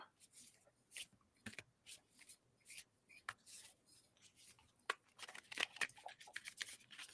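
A 44-card rune card deck is shuffled in blocky handfuls, with crisp, quiet riffling and rubbing bursts coming in irregular clusters close to the listener.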